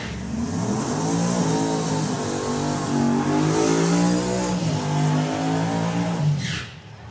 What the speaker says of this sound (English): 2 big burnouts from 2 highly respected and experienced teams, and 2 drivers that really want to go for it